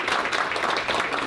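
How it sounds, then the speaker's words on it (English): Audience applause for an honoree at an evening event, a brief burst of dense crowd clapping. "Let's give her a round of applause."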